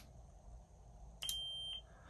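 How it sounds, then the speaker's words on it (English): A Graflex Supreme lightsaber emits a single short, high electronic beep signalling its volume control menu, a clear tone lasting about half a second over a quiet room hiss. "that beep means you're in the volume control menu"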